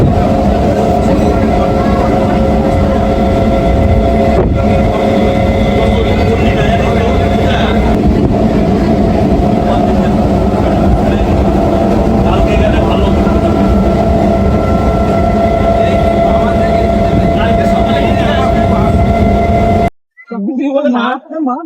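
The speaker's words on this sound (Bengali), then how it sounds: "খানিকটা দূরে যে ট্রেন যাচ্ছে, ট্রেন নামখানা।" A train bound for Namkhana passes at a distance near Karanjali station in rural West Bengal, a steady continuous rumble with rail clatter that holds for about twenty seconds before cutting off abruptly.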